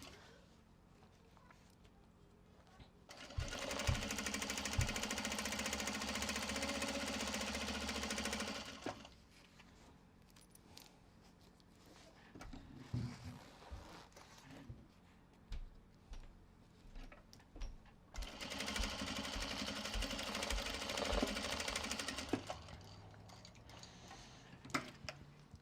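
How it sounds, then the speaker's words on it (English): A sewing machine stitches through heavy waxed canvas in two sustained, steady runs, each a few seconds long, with quieter shuffling, handling of the fabric and faint movement between the bursts. "Last one to sew on this side, and then we'll go in and we will sew all the other ones."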